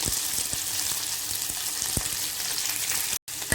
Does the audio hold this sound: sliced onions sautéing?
yes